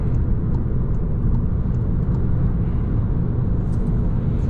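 Car engine and road rumble from inside a vehicle overtaking another on the road at around 100–110 km/h, a steady loud low drone with no voices.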